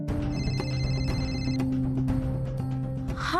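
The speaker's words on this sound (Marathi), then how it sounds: "कधीपासून फोन वाजतोय?" A telephone rings indoors in a home setting. The tones are fairly quiet and blend with background music.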